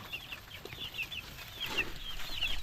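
Backyard chickens and chicks being fed, repeated high peeping and soft clucking from several birds, close and fairly quiet, with a brief louder burst of squawking or fluttering midway.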